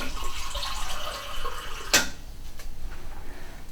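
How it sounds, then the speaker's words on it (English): Half a cup of water poured from a small container makes a light splashing pour, then a sharp knock and a quieter trickle, close by, with no talking. "And you're also going to take a half a cup of water. I've got a little water container here."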